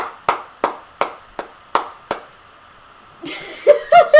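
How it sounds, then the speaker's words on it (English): One person claps their hands six times in a slow, even rhythm, loud and close, then a voice and laughter break in. "You're applauding yourself?"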